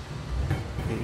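A train rumbles through the rail yard at North Platte, Nebraska, the largest train yard in the region: a steady, fairly loud low-pitched roll that persists for the whole second with no voices.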